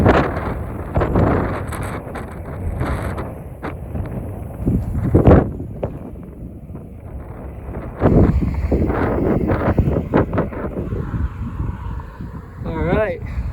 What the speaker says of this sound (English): The wind is ripping from the north